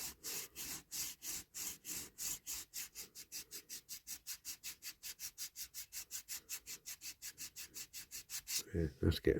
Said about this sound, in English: give that a bit of a sanding